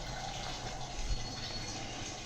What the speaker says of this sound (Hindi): पानी भर रहे हैं सप्लाई से, कैन लगा दिए।